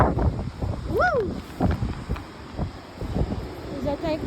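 Wind gusts buffet the microphone on a beach, giving a rough, rumbling roar throughout, while a voice exclaims and talks over it close by.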